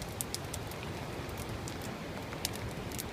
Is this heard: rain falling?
yes